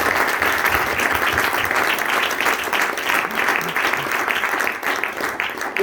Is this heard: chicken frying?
no